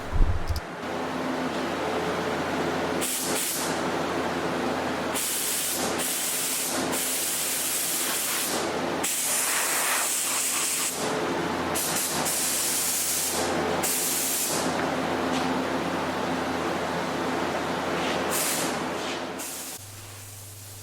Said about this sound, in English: laying our first coat of base on it